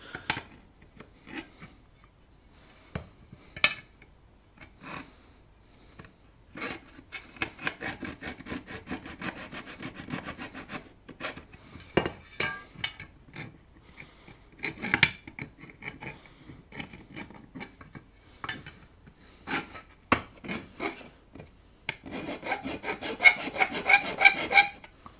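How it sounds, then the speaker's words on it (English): A hand file smooths the edges of a transformer hole cut in a DD-12 amplifier chassis, giving irregular scraping rasp strokes that come in close bursts and pauses over about 25 seconds, with no one talking. "So, just a little bit of a smoothing of the edges here."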